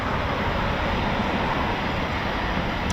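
Eurofighter Typhoon FGR4 jets fly over RAF Coningsby as a steady, broad roar of jet noise with no distinct pass-by peak. It sounds fairly loud and continuous.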